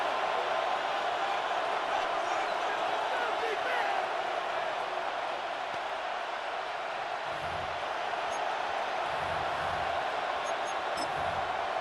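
A stadium crowd roars at an Eagles vs. Lions American football game before a third-and-goal play, a dense, steady wash of distant noise with a few faint thuds underneath.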